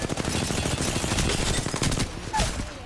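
Rapid automatic gunfire in the video game Apex Legends, a loud continuous burst of close shots lasting a couple of seconds before trailing off.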